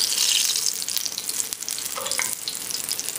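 Crawfish fritters frying in hot oil on a stove over medium heat, a steady bright crackling sizzle with a few sharper pops, close and fairly loud.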